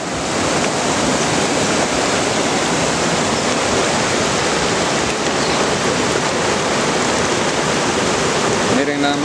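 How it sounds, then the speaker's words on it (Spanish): Steady, loud rush of the Zacate river flowing during a crossing in Oaxaca, Mexico, fills the whole stretch, a continuous broad churning with no pauses. "Y aquí vamos nuevamente cruzando el río."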